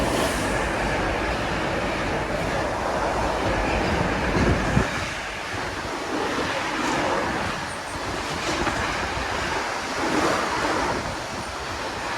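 A Class 88 electro-diesel locomotive rumbles through Warrington Bank Quay station, a broad continuous roar with a brief louder burst partway through and wind noise throughout.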